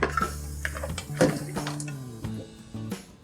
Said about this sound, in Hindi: मसाला मटन कढ़ाई बनाने के लिए हमने 2 किलो गोश्त ले लिया है मटन का, ये डाल देंगे।